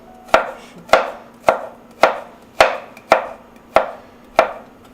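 A kitchen knife chops a shallot on a cutting board in eight crisp, evenly spaced strikes roughly every half second, close and clear with no talk.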